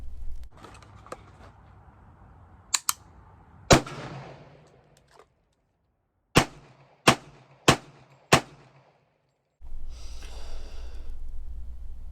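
Zastava ZPAP M90PS rifle fired off a barrier: several sharp, loud shots in irregular spacing, some closely paired, each followed by a short decaying echo, with breathing and movement between them and a rumbling outdoor background.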